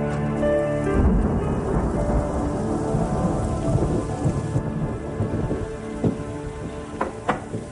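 A thunderstorm with steady heavy rain pouring on surfaces and low rumbling thunder, dense and continuous throughout, with occasional sharper cracks near the end.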